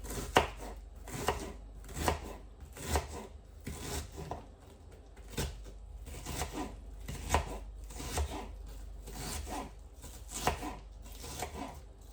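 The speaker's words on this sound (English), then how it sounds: "Again, I do the onions nice and fine, really thin." Onions being finely chopped with a knife for a Caribbean dish, a steady run of close, crisp blade strikes against a cutting board, with brief pauses in the rhythm.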